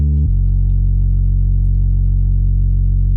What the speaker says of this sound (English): I just switched it with a simple steady sine wave that sounds like this